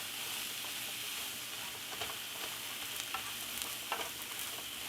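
Eggplant fries in olive oil with Italian seasoning for an eggplant sub, a close, continuous sizzle broken by several light scrapes and taps as a spoon stirs the pan.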